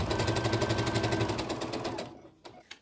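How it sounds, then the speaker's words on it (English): A sewing machine stitches a side seam pocket in a steady, rapid needle rhythm for about two seconds, then stops, leaving a couple of faint clicks. "I'm going to be sewing here, and then all the way around up to that pin and down."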